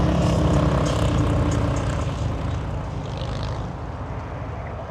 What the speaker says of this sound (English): FedEx MD-11 leaving the runway quite early